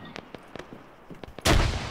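An explosion in the military shooter game ArmA 3 bursts in loudly and sustained at the end, following a series of sharp, scattered distant gunshots.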